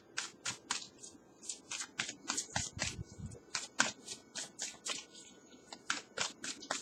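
Tarot cards are shuffled close by in a quick run of crisp, papery riffles and snaps, about a dozen bursts with short gaps between them and no voices.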